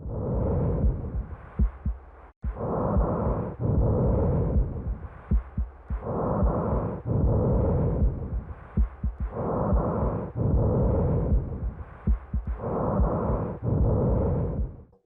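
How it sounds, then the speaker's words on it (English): In the video game Silent Hill 2, slow, deep heartbeat-like thuds pulse alongside rhythmic, heavy breathing whooshes, repeating steadily in a dark, droning pattern. "it's possible to hear a very ominous and disturbing sound of a heartbeat and heavy breathing"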